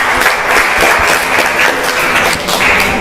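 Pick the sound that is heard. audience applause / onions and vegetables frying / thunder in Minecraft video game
audience applause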